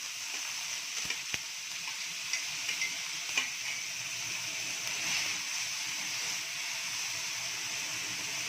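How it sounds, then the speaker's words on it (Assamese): Chopped tomatoes frying in hot oil for chicken biryani, a steady hissing sizzle with a few light clicks from the pan, moderately quiet and continuous. "এইখিনি তেলখিনি গৰম হৈছে, মই এই কুটি লোৱা বিলাহীখিনি ইয়াতে দি দিম"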